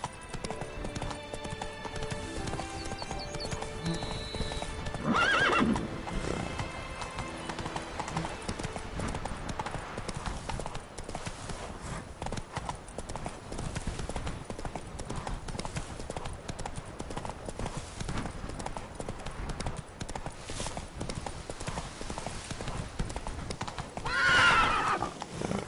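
Roach, a horse in The Witcher 3, gallops with steady, fast clip-clopping hooves through a long stretch of game sound, with two short whinnies breaking through, all fairly quiet under game ambience.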